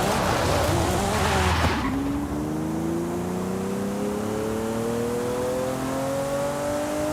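A Lamborghini SC20 with all-wheel drive in Forza Horizon 5 roars through a loud rev, then tires skid as the engine pitch climbs steadily under hard acceleration, with no talk.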